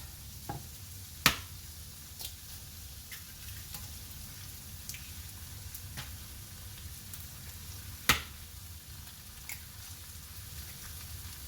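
Four ordinary white eggs frying in a pan: a faint, steady crackle and sizzle with scattered sharp pops, two of them louder, quiet and close with no voices.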